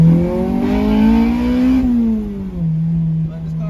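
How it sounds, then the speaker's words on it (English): A Mitsubishi Eclipse with a swapped K24/K20 engine revs up and falls back with an uneven, rough tone, the pitch rising, holding, then dropping, close and fairly loud. "It's sputtering, yeah."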